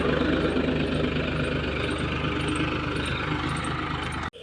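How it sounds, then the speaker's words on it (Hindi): Tractor engine running while plowing a field in cold weather, a steady throbbing diesel drone heard close and continuous with no talk, cutting off abruptly near the end. "इतनी सर्दी में हमारे ट्रैक्टर आया हुआ था और ये जुताई कर रहा था"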